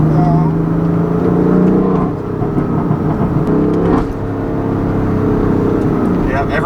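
Tuned 2016 BMW M3 with a smooth straight-six, dual-clutch gearbox and mid-pipe, its engine droning steadily from the cabin as it accelerates, with a gear change midway and a voice talking over the noise.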